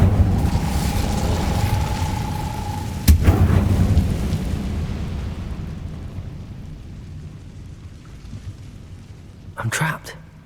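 The Incendio fire spell cast in Hogwarts Legacy, a sharp burst that flares into a roaring, rumbling fire which fades slowly, followed by a second brief crackling flare near the end, with speech around it.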